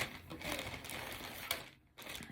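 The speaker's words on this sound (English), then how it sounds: "I can get the plastic bag open." Close, quiet crinkling and rustling of thin plastic, with irregular crackles and a short pause near the end.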